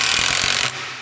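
Milwaukee cordless drill driving a screw, a loud, steady whirring drive noise with a few low thumps, cutting out abruptly near the end to a quieter hum.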